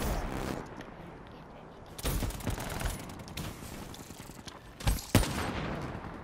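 Bursts of gunfire in a Call of Duty match crackle in sharp clusters between quieter stretches, including a couple of loud close shots near the end, with a player's voice mixed in.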